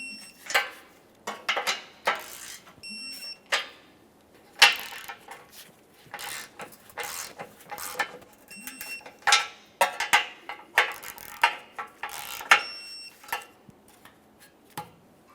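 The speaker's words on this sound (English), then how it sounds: "We've got our torque wrench set," Torque wrench tightening a bolt on the bumper impact absorber of a 2003-2009 Toyota Corolla, heard as a run of sharp metallic clicks and ratcheting ticks in uneven bursts, close and fairly quiet.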